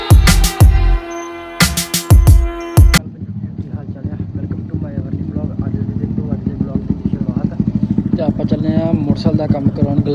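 Loud voices and sharp bursts at first, then a motorcycle engine idling with a steady, pulsing putter that persists to the end.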